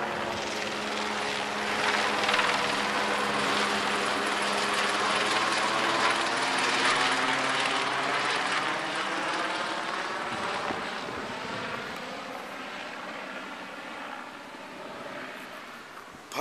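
A helicopter drones overhead with steady rotor chop, loud and sustained, slowly fading a little toward the end.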